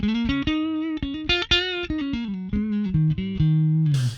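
A distorted electric guitar through a Joyo Cab Box simulating a Matchless 2x12 cab plays a choppy riff of short, punchy notes and chords, loud and dry with no reverb, ending in a scrape.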